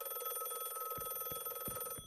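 An old-fashioned telephone bell rings continuously in The Last Case of John Morley, a bright, steady metallic trill at even loudness with a few low thumps beneath it, no voices.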